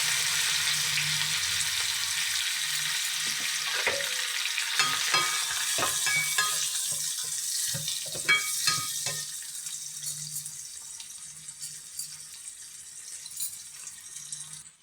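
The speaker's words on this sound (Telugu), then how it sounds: "ఇప్పుడు జీలకర్ర ఫస్ట్ వేస్తామండి. దాని తర్వాత ఆనియన్స్ వేస్తాం." Cumin seeds and onions frying in a pan, with a loud steady sizzle, scattered clatter of stirring and a brief watery swish; the sizzle eases toward the end, with no talking.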